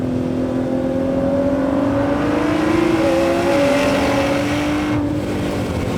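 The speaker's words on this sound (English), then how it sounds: "just listen to how much noise we're getting. Just driving it normally. I'm going 50 miles an hour." A sports car's engine and exhaust drone steadily at about 50 mph from inside the cabin, automatic transmission shifting itself, a loud low hum with slight pitch shifts as it shifts gears.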